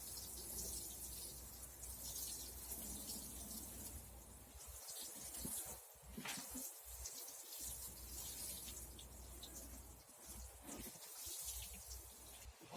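Gentle watering of freshly planted radishes and coriander in a greenhouse in January, a soft hissing trickle of water with faint drips, quiet and steady with brief pauses.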